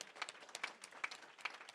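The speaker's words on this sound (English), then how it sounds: "clap it up for the sponsors, everybody" An audience applauds at a RITSEC club meeting, giving a short burst of scattered, fairly faint clapping from a small crowd.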